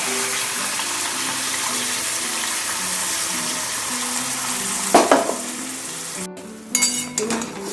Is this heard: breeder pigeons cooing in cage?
no